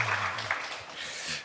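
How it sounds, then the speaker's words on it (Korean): A church congregation claps together during a Korean Sunday worship service: a short, dense burst of applause with a voice briefly audible at the start. "우리 찬양을 받으신 주님께 감사와 영광의 박수 올립니다"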